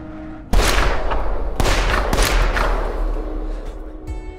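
Video game gunfire bursts out in loud, sharp volleys: a heavy shot cracks in, followed by more booming reports about a second apart, each trailing off into a rumbling echo.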